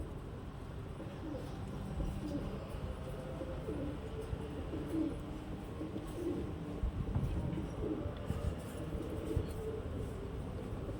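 Pigeons being coloured with dye coo softly and intermittently under a constant low background hum, faint and somewhat distant, with no talking.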